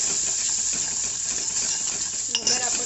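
A spoon stirs and scrapes through a vegetable curry of tomato and spices in a pan, with steady close clatter and a sharper metal knock near the end.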